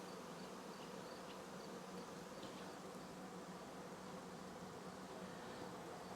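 A honey bee swarm newly housed in a box of fresh comb buzzes in a dense, steady drone throughout a hive inspection, with no voices.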